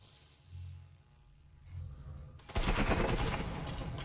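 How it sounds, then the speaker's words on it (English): Gunfire shooting through walls in the game Breachers: quiet low thuds first, then a sudden loud burst of rapid, continuous shots. "Wall bangs are coming in."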